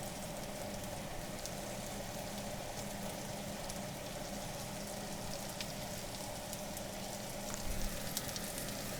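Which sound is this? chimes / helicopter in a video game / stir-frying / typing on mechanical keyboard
stir-frying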